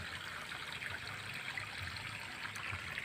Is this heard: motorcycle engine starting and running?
no